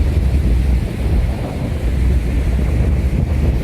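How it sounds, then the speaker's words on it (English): Strong wind roars steadily at a beach where someone prepares to parasail, buffeting the microphone with a constant low rumble and surf-like hiss throughout, with no one speaking. "There's a tremendous amount of wind."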